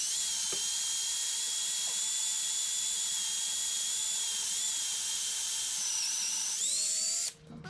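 A steady, high-pitched drill whine bores into a small-block Chevy 350 cast iron engine block for several seconds without letting up, then cuts off abruptly near the end.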